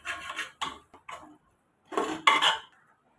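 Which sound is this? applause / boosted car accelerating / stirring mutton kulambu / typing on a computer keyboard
stirring mutton kulambu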